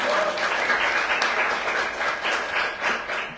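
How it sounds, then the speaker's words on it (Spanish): A seated audience at a talk on the rights of nature in Santa Cruz claps together, a full, even burst of applause that stays loud throughout with individual claps poking through. "Aplauso, por favor."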